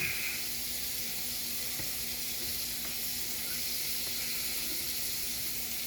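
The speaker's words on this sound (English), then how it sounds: "Okay, wash my hands." A steady stream of tap water runs into a sink while hands are washed, a continuous close hiss with no speech over it.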